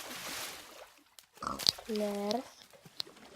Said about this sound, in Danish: Kom her. Gris. Lad være med at flygte.